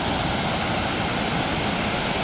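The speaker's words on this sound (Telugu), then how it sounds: "కొంచెం రిస్క్ చేసి వెళ్తున్నాను వాటర్ ఫాల్ దగ్గర." A large waterfall in the forest near Kodaikanal lake gives a constant, dense roar of falling water, steady and unbroken throughout with no voices.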